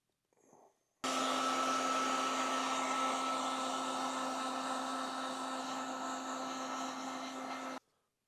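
A heat gun warming motorcycle graphics on a 2014 Kawasaki KX250F switches on after a brief soft sound, then roars with a loud, steady fan hum and airy hiss for about seven seconds before cutting off abruptly.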